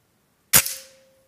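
A Reximex Zone air rifle fires a single Slug Ivo pellet: one sharp, loud crack that decays quickly over about half a second, leaving a faint ringing tone afterward, with no voices.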